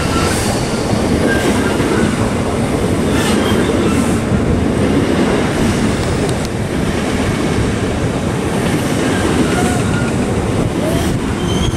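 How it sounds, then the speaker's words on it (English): A Southeastern class 466 electric train pulls into Sevenoaks station on the South Eastern Main Line, with a loud, steady rumble of wheels and rail clatter close by and faint squeals running throughout. "arriving now is a 1236 Southeastern service to Tonbridge Wells"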